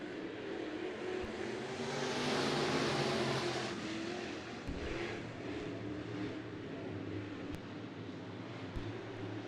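IMCA Northern Sport Mod race cars go green on the dirt oval at Bakersfield Speedway, a distant swelling engine roar from the pack that rises, fades and lingers with scattered clicks, no voices.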